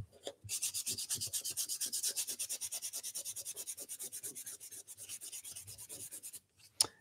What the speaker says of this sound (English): I'm just going to pull myself off a little bit of this 400 grit and just go around the whole board like this